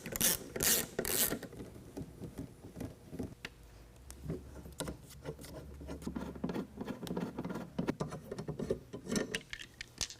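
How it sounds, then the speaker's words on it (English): A ratchet loosens Torx bolts on the spare tire carrier and camera housing of a 2022 Ford Bronco. Close, busy clicking and patter comes in uneven bursts, with a few louder rattling knocks at the start. "we're going to remove these Torx bolts that hold the camera housing and side of the spare tire carrier"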